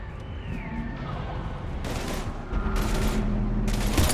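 Gunfire in the video game Mass Effect 3, bursts of rapid shots over constant combat rumble, growing heavier and louder toward the end, with a voice briefly heard beneath the action.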